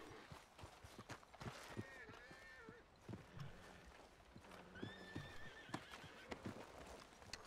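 A horse in the video game Red Dead Redemption 2 whinnies twice with rising, wavering neighs, while hooves clop and thud steadily underneath, close and fairly loud.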